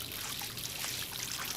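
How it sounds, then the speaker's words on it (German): Water runs from a sink and is splashed onto a face in the Life is Strange game, a quiet steady trickling stream with soft splashing, faint and continuous. "Ein bisschen Wasser ins Gesicht."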